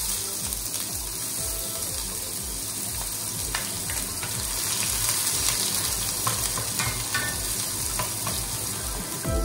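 Chopped onion fries in hot oil with a steady dense sizzle and crackle, stirring clatter audible throughout, close and alone without talk.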